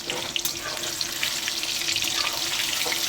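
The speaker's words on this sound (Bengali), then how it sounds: "এবার চিকেনটাকে ফ্রাই করছি এখন।" Marinated chicken pieces frying in hot oil in a pan, a close, steady crackling sizzle that runs unbroken throughout.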